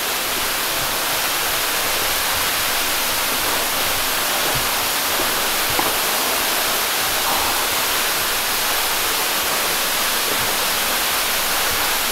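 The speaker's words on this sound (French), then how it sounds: "On est derrière la cascade." Waterfall heard from behind the cascade on a hike in Mauritius, a steady, dense hiss of falling water filling the whole clip without pause.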